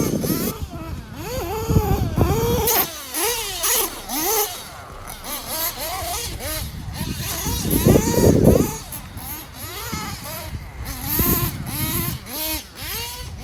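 Nitro RC truggy engine on a dirt track rising and falling in rapid high-pitched revving sweeps as it accelerates and lets off, loud and close, with wavering whine through the whole stretch.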